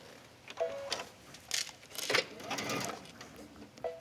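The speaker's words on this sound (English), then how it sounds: "Take it back to the sewing machine. And I'm just going to stitch along the edge." Sewing machine running in short bursts while stitching along the edge of knit fabric for a wrap dress waistline, with brief whirring runs and pauses, fairly quiet and close.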